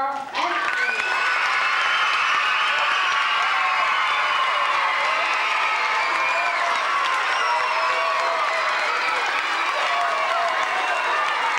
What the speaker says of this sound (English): And one more round of applause for our